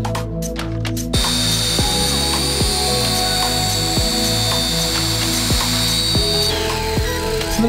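Steady mechanical whir of a small drone's motors with high-pitched rotor tones and shifting pitch, loud and close throughout, flying in winter and landing in deep snow.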